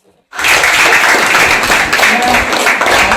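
A crowd at a school aid donation event bursts into applause after a brief silence, a dense, loud burst of clapping that holds steady to the end.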